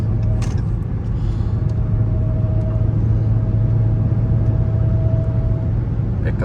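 Dodge Challenger Hellcat cruising on a Missouri highway while passing a pickup truck, a loud steady engine drone and road rumble with a faint whine, continuous from inside the car.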